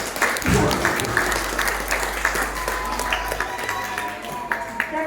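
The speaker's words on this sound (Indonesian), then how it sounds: "Silakan tepuk tangan." Audience applause at a class 6 farewell ceremony at a school, loud, sustained clapping from a crowd with a low hum beneath and some voices mixed in.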